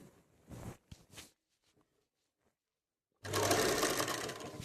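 Sewing machine stitching lace onto a dupatta runs loud and steady for about a second and a half after a few soft handling noises and a pause.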